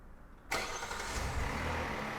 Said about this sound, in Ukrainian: І вуаля, двигун запустився